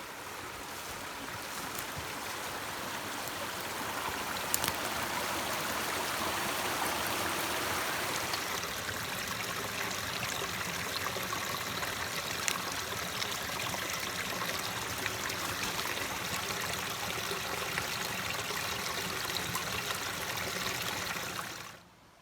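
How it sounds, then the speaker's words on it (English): A forest creek runs steadily, close and fairly loud, a continuous rushing burble with no voices. "there is a creek down here, so we're gonna go have a drink"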